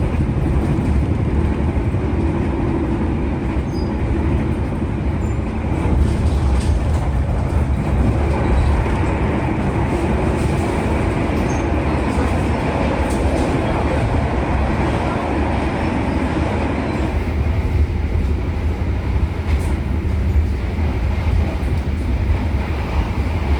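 Cabin of the Argo Dwi Pangga luxury train between Jakarta and Solo, a loud constant low rumble of wheels and carriage running steadily throughout with no talk.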